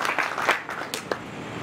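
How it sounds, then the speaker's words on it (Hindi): Short burst of applause for a poet at a Hindi poetry gathering, a few distinct claps and a patter of hands, fairly close and tapering within under two seconds. "आप जोरदार तालियां उनको"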